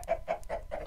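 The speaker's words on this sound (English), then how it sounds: "You need about 40 chickens on the top to get enough eggs" Minecraft chickens give four short, evenly spaced clucks in quick succession, close and clear, with nothing else around them.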